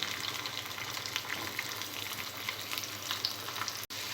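Onion pieces sizzle in hot oil with tempering seeds, dried red chillies and curry leaves for an aloo tomato curry, a steady close frying hiss with light stirring and no talk.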